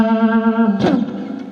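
Electric guitar notes with a distorted rock tone, a sustained A pitch with wavering vibrato leading into a brief picked attack that rings and fades, played alone and fairly loud.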